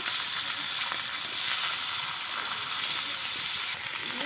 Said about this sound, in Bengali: সব মাছগুলো এবার ভালো করে ভেজে নেবে।